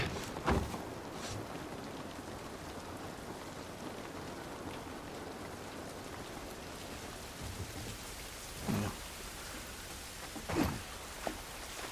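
Steady rain falling in The Last of Us Part 1, a constant hiss of drops on surfaces with a few louder knocks and splashes standing out.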